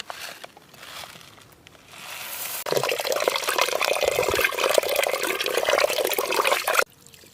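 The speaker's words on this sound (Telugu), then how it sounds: "బిర్యానీ రైస్ని అయితే ఇప్పుడు నానబెట్టుకుందాం." Water pours steadily into a vessel to soak biryani rice for a mushroom biryani cooked outdoors in a village, a loud, continuous splashing gush that runs for several seconds and then stops abruptly.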